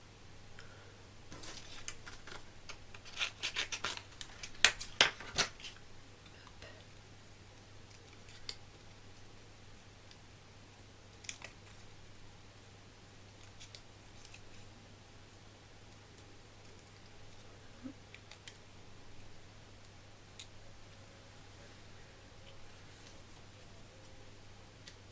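Scissors round off the corners of a paper card, a cluster of quick, crisp snips early on, then sparse faint clicks over a low steady hum.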